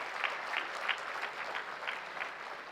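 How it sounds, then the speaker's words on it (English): Quiet, distant applause from an audience at a conference inauguration ceremony, a thin continuous patter of clapping with a few slightly louder claps poking through. "I thought a louder round of applause will be more appropriate"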